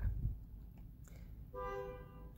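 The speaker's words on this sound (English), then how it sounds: "Sorry about that honking noise." A faint, brief honk sounds in the distance, a tonal horn blast lasting under a second over low background rumble.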